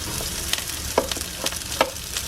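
Garlic frying in a hot, already smoking pan, a dense crackling sizzle with a few clear knocks and scrapes of a utensil against the pan and no talking.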